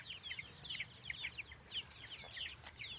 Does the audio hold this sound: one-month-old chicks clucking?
yes